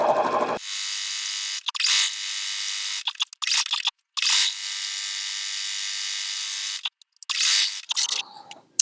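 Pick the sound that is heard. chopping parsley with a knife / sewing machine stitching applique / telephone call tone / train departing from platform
sewing machine stitching applique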